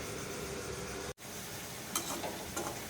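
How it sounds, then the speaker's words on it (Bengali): Chickpea fritters fry in a pan of hot oil, giving a steady loud sizzle throughout, cut by a brief silent gap and followed by a few sharper crackles and stirring clatters. "একটু লাল লাল করে ভাজতে হবে।"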